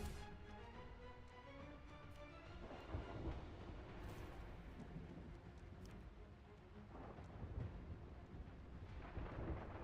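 Thunder rolls and rumbles steadily through a stormy pirate video game scene, with sharp crackling bursts near four and eight seconds standing out against a dense, continuous low roar.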